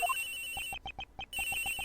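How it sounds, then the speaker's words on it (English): A cell phone rings inside a locker in the Ace Attorney Investigations video game, a bright electronic ringtone of repeated short beeps in a quick rhythm, clear and alone with a steady synthetic tone behind it. "This has got to be the victim's cell phone."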